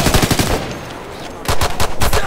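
Rapid automatic gunfire hammers away in Ghost Recon Future Soldier, loud and close, in two dense bursts separated by a brief lull.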